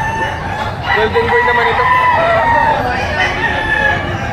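A rooster at a chicken market in Padre Garcia, Batangas crows loudly and close, a drawn-out call with clucking around it, while someone talks over it.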